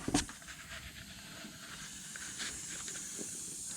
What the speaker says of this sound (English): Everything is done with zinc spray.